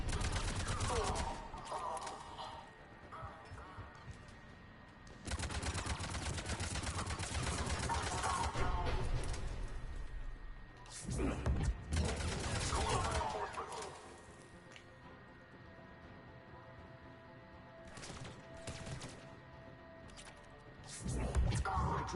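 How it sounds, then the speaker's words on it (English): Cannon fire and gunfire in the video game Mass Effect 3, dense bursts of rapid shots and heavy blasts in long loud stretches with quieter gaps, mixed with game sounds. "The cannon fire is clearing the way."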